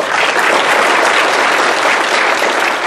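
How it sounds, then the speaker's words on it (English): A crowd applauds the candidates at the close of a chamber of commerce candidates event, a loud, dense, steady clapping that fills the whole stretch without pause. "let's give the candidates a big round of applause"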